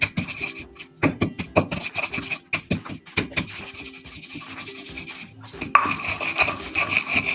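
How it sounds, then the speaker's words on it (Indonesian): Spices are ground by hand into a paste with palm sugar, salt and granulated sugar for goat satay, in close, repeated rubbing and scraping strokes with an uneven rhythm, and no one speaks. "Kita haluskan bumbunya."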